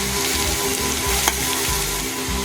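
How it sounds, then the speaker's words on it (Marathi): Grated carrot fries in hot ghee in a kadhai with a loud, dense, continuous sizzle and crackle, close by and uninterrupted, no voices over it. "गाजर तुपामध्ये भाजून घ्यायचं आहे व्यवस्थित"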